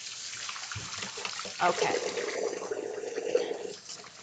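Water running from a kitchen tap while someone washes up at the sink, a steady close splashing stream with brief louder gushes, and a person speaking briefly over it.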